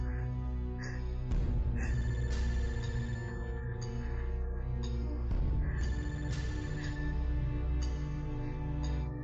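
A telephone rings in a dramatized story: a looping electronic ringtone with repeated melodic phrases that plays steadily for several seconds over a low background hum.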